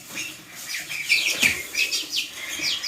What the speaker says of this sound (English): Here are all the birds we originally got from Tractor Supply.